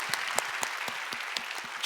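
Congregation at a church youth service clapping in thanks, a sparse run of separate sharp claps at an uneven pace, a handful of hands rather than a full crowd, with no voices.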